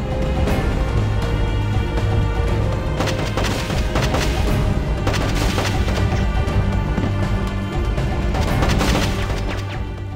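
Grenade launcher explosions in the Terminator Salvation iPhone game: a rapid, loud series of booming blasts and crashes, dense and continuous, with no talk over them.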